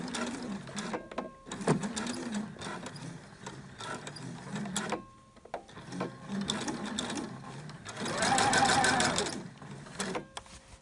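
A domestic sewing machine stitches ribbon onto a fabric gift bag in bursts of rapid mechanical whirring and clicking, close by, stopping and restarting between runs, with the longest steady run near the end.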